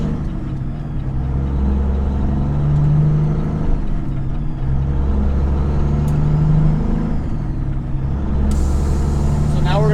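A truck with an 18-speed twin-stick transmission drones steadily up close. Its engine pitch steps as gears are shifted, and a sharp air hiss comes near the end while someone talks over it.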